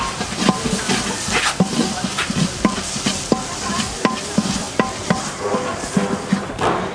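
A ladle scrapes and knocks against a pot as mutton soup is stirred over a rocket stove, giving a steady run of sharp clinks and scrapes over a soft sizzle.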